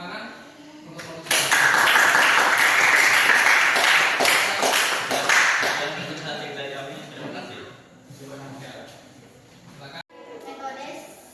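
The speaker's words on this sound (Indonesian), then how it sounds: "Kita beri aplaus, tepuk tangan untuk solusi" A group claps for a few seconds in what sounds like a classroom, a burst of dense clapping that fades out, followed by quieter talk and small knocks.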